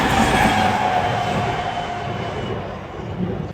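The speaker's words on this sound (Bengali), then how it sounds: "জাপানের ট্রেন সেরকম একটা হর্ন বাজায় না কিন্তু ভিজিবিলিটি কমে গেছে বলে মনে হচ্ছে হর্ন বাজাচ্ছে" A faint, steady train horn sounds in low visibility in Japan under the loud rumble of a moving train, fading as the rumble carries on.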